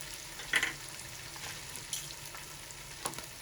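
Whole black pepper and cinnamon sticks frying in hot oil in a pan for mutton pulao, a soft steady sizzle with a few sharp crackles and pops as the spices hit the fat.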